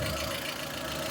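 A petrol car engine idles smoothly at a used-car lot, a steady, even low hum with a faint mechanical rattle, close and continuous throughout.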